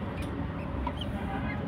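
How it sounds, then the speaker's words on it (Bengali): Three half-grown chickens on a rooftop cluck softly and intermittently against a steady noisy background. "সাথে হচ্ছে 3টা মুরগির বাচ্চা"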